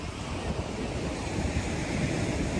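Broad sea waves wash continuously onto a beach in a steady, loud roar of surf, with wind buffeting the microphone and no voices heard.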